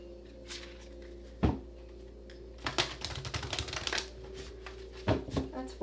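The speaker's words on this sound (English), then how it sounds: "Let's get 2 more shuffles." A deck of cards riffled twice, each a quick burst of fluttering snaps with brief pauses between, close and fairly loud.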